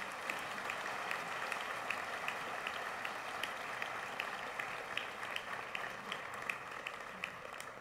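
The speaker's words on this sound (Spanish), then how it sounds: "Un fuerte aplauso para este distinguido grupo de estudiantes." An audience at a solemn university anniversary ceremony applauds a group of students, a steady, moderately distant wash of clapping that holds for several seconds with no one speaking.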